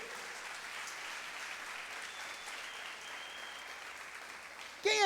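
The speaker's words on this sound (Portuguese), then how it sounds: "Dá um aplauso a Jesus aí." Sustained applause from a church congregation, a dense steady patter of many hands clapping, fading into a voice that starts speaking at the very end.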